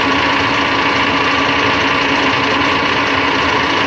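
A drill bores a valve guide hole in a Detroit Diesel 453 cylinder head with a dull, chipped, hand-ground bit. A loud, steady, close motor whine with a buzzing rasp holds constant throughout with no talk.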